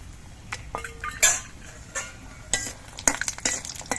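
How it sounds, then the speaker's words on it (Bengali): Lentil dumplings (dal bori) fry in hot mustard oil with a soft sizzle under repeated close scrapes and clinks of a spatula stirring in a metal pan, in irregular bursts without talk. "তেলটা গরম হয়ে যাওয়ার পর এর মধ্যে আমি ডালের বড়িগুলো ভেজে নিচ্ছি"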